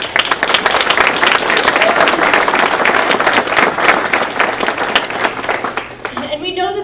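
Loud, sustained audience applause at a building renovation groundbreaking ceremony for Culpepper Garden I, dense clapping filling the scene for several seconds before tapering off near the end.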